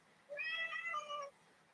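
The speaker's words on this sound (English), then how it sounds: "That cat's fucking annoying." A cat meows once, a single drawn-out, wavering cry of about a second, fairly faint and close against a quiet room.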